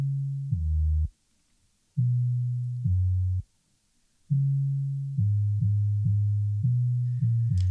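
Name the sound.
soloed EQ-filtered 808 bass between 70 and 200 hertz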